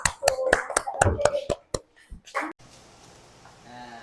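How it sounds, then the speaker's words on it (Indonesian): Students in a classroom clap their hands in a quick rhythmic pattern of sharp, close claps, roughly ten strikes, then stop. Voices are mixed in with the clapping and quieter room noise follows. "Tepuk tangan ya"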